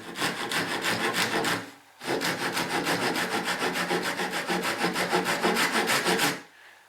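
Hand saw cutting wood clamped in a bench vise: steady rhythmic back-and-forth rasping strokes, close and loud, in two runs separated by a short pause.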